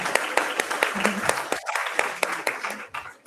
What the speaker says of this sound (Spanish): Sí, aplausos porque fue genial.